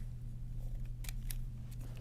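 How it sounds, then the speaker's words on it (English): Scissors snip through highlighter tape laid along a line of text in a Bible, making a few quiet, crisp cuts close by over a steady low hum. "bring it to the edge, take your scissors"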